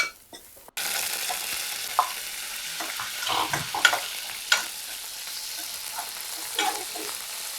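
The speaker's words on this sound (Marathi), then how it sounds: "तो परतता परतता घालूया ह्याच्यात आपण आपला मालवणी वाटा" Malvani masala paste sautéing in a pan over low heat while being stirred, with a steady close sizzle and scattered scrapes and clinks of the spoon against the pan.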